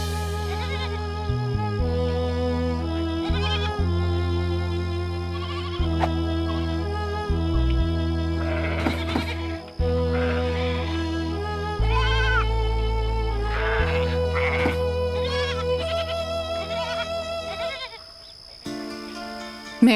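Cartoon sheep bleating over and over, loud and close, in a steady run of drawn-out calls, some overlapping, in a children's police story about stolen sheep.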